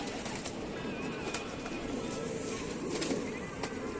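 Pigeons coo in a loft, soft low murmuring calls repeated over a constant background hum, close but not loud, with faint clicks and rustles scattered through.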